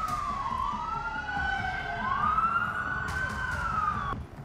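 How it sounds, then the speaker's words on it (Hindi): Emergency sirens wail on a road near the White House, a few blocks from a shooting, rising and falling in overlapping sweeping tones, fairly close and steady. "रोड पर सायरन बज रहा है।"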